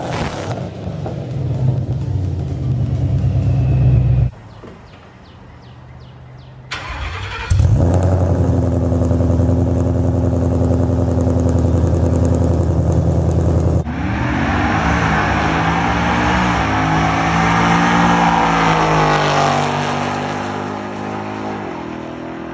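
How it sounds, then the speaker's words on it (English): Ford Mustang, about 650 wheel horsepower and running on E85, with an H-pipe feeding a Roush axle-back exhaust, starting up and revving loudly with a deep muscle-car rumble, settling to a steady, throaty drone, with no talk. "Stita H pipe, which then comes out to our Roush axle back. Very unique exhaust setup."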